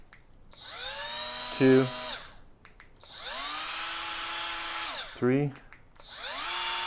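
A Milwaukee M12 cordless die grinder spins up and runs at several speed settings, its high whine ramping up and holding in separate bursts with short pauses between them, while a man briefly counts aloud between runs.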